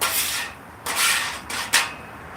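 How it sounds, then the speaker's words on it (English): Metal spatula scraping down a griddle after cooking breakfast smashburgers, a few short rasping strokes of varying length, close and fairly loud with no talking. "scrape this down. Always clean as you go."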